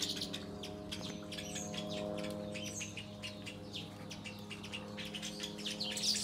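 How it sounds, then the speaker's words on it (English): Many small birds chirp and tweet busily in a garden with a koi pond, overlapping calls coming quick and steady at moderate distance, with a low steady hum underneath. "There's tons of birds that come into this garden all the time."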